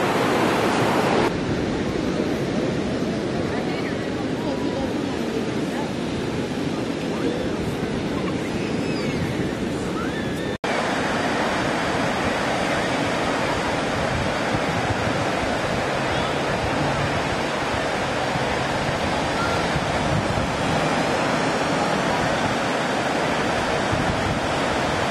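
Ocean surf at Moonlight Beach, a steady broad roar of breaking waves with wind buffeting the microphone, continuous and loud throughout.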